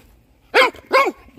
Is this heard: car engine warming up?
no